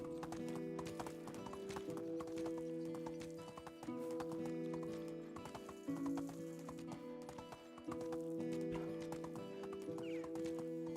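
Horse hooves in the Medieval Dynasty game, a steady rhythmic clip-clop from a near horse with a brief whinny, continuous and fairly quiet against a low tonal background.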